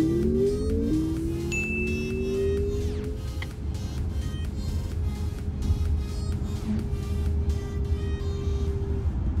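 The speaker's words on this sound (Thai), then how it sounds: "เมื่อกี้ตอนออกตัวนี้เขาหมุนฟรีจี๊ดหนึ่งนะครับ" A NETA GT electric sports car launches hard with a brief wheelspin, its motor whine climbing quickly in pitch and then holding a steady tone over continuous loud road and tire rumble.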